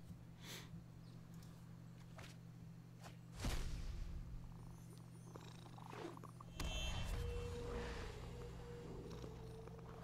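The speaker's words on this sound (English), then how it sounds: "Your opponent's petting their cat." Soft, steady low purring from a pet cat in a Magic card game, a continuous rumble running through the whole stretch with a few brief clicks and louder thumps layered on top.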